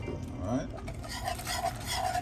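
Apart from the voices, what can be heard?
whisking caramel sauce over low heat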